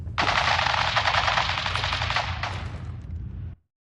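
Sustained rapid automatic gunfire from the video game Fallout 4 rattles loud and close for about three and a half seconds, then cuts off abruptly into silence.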